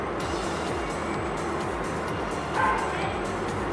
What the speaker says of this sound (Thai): เฮ้ยหมาเห่าแรงมากจริงๆ